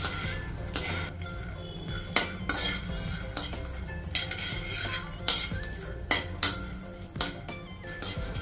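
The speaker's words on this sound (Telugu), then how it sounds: "నెక్స్ట్ ఇదే ప్యాన్లో పల్లీలు వేసి వేయించాలి" Peanuts roasting in a pan for sesame laddu are stirred with a utensil, producing a series of clinks and scraping knocks against the metal over a soft frying hiss, moderately close and without talk.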